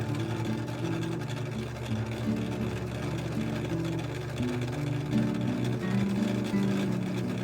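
A sewing machine stitches a skirt waistband in a steady, continuous whir, its motor pitch rising and falling slightly as the stitching runs on for several seconds with no voices.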